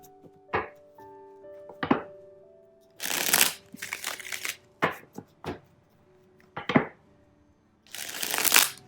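Tarot and oracle cards are shuffled by hand in a quiet room, making a series of crisp riffling and slapping bursts separated by short silences.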